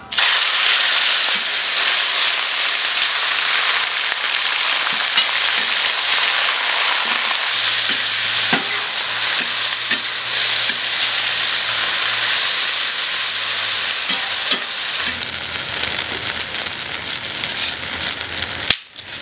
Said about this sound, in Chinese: 来，锅里加油，我们开始炒牛肉。